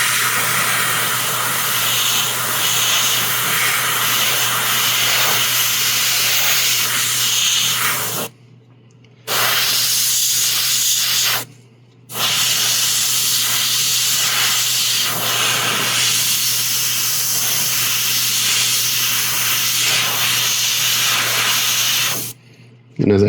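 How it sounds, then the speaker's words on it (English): An airbrush sprays paint onto a figure, a loud steady hiss that cuts out briefly twice and then resumes, running almost without a break. "when I'm airbrushing, I'm airbrushing off the side of my bench because the tabletop actually gets in my way."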